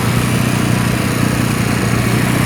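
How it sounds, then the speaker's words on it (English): Steady, loud motorized droning from a power sander smoothing a concrete edge at a water recycling facility construction site, with a buzzing low hum and broadband grinding noise, continuous and unbroken from start to finish. "They're still sanding down the edge over here"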